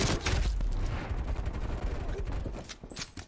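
Explosions and rapid gunfire from frag and stun grenades in Call of Duty Black Ops, a dense, loud, continuous barrage of blasts and shots with no gaps.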